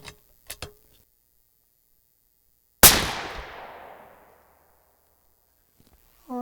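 A .300 Win Mag rifle firing a 230-grain Hornady A-Tip load with RL 26 powder at a shooting range: one sharp, loud shot with a long rolling echo that fades over about a second and a half, preceded by faint mechanical clicks.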